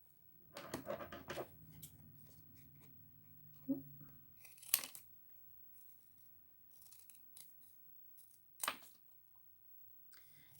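Scissors snip through paper to cut out outlined craft shapes for a Baby Yoda puppet, a few close, distinct crunchy cuts and rustles spaced irregularly in a quiet room.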